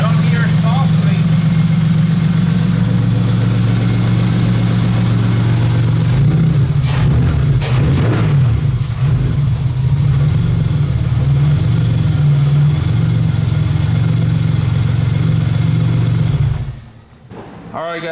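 A drift car engine fitted with a new, bigger Garrett turbo idles with a low, steady drone for a long stretch, while speech and some clattering noises come and go over it before it quietens.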